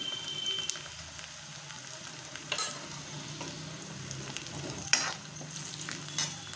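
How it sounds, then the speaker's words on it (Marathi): Onion frying in a pan with a pinch of turmeric added, for a wild bitter gourd vegetable dish: a continuous close sizzle with brief scraping stirs and spatters, no talk over it. "कांदा भाजलाय, थोडीशी हळद घालते मी"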